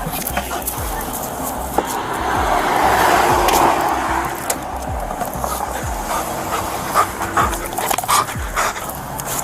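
A dog pants and whimpers close by amid a tense police encounter, with brief scuffling and a steady background rumble of passing traffic; people talk intermittently nearby.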